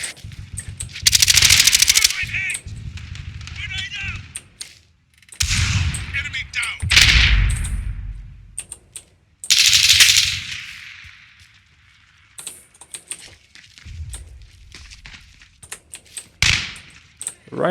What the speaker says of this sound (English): it's a steady stream of gunfire